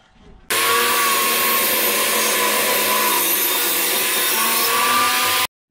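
A table saw rips wood along the fence for a chess board, a loud, steady, harsh cutting roar that starts abruptly, holds for about five seconds and then stops sharply, with no talking.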